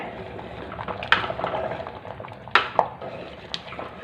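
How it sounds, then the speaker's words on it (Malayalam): Sambar with okra simmering in a pot, a soft steady bubbling hiss with several sharp clinks of a utensil against the pot, close and fairly quiet. "വെണ്ടയ്ക്ക എടുത്തിട്ട് ഒന്ന് തിളക്കട്ടെ"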